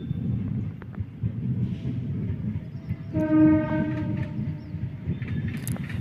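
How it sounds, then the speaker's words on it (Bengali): A train passes beside platform four at Purbasthali station, a low rumbling roll with a tonal horn sounding briefly midway, heard from close by at moderate loudness. "তোমরা ট্রেনের আওয়াজও শুনতে পাচ্ছ এবং দেখতেই পাচ্ছ যে ওই দিক দিয়ে পাশ দিয়ে ট্রেন যাচ্ছে"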